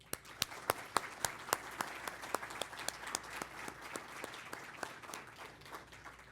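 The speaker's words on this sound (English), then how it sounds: "Let's give a great round of applause to our co-presenting sponsors, Woodfibre, LNG, and TC Energy" Audience at a BC natural resource industries event applauding the sponsors, a steady round of clapping with sharp individual claps standing out, moderately distant and fading slightly toward the end.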